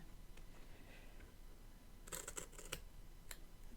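Scissors cutting paper for a planner, a few quick crisp snips close by in a quiet room.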